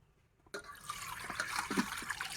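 Water starts abruptly after a brief quiet moment and then keeps pouring in a steady, close, splashy stream.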